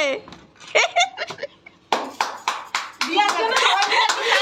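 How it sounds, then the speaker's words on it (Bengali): Several people clap their hands in short bursts during a children's bottle flip game, the claps mixed in with lively voices talking and calling out close by. "তালি ভালো করে।"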